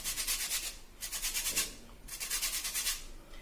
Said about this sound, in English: when you're grating the lemons, just make sure you don't go too deep